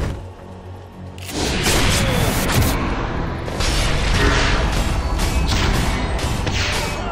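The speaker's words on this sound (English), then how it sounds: "Dire's bottom tower has fallen." A Dota 2 tower being destroyed, with a sudden loud crashing boom after a quiet second, followed by sustained rumbling debris and layered impacts of ongoing battle.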